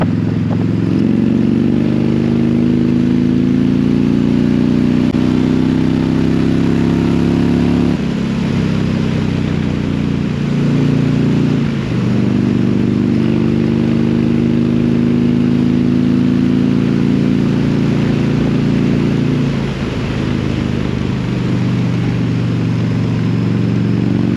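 A 2022 Indian Challenger Dark Horse motorcycle engine pulls hard uphill in fifth gear, a loud, steady low-pitched drone with throttle swells and brief dips, alone without talk throughout.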